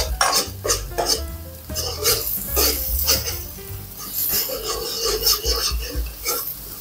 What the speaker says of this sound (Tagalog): Gisahin lang natin hanggang sa mag-translucent.